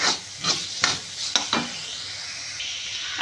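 Chopped snake gourd gets stirred with salt in a pan, giving a few distinct scraping strokes over a steady soft sizzle, close up and with no voices.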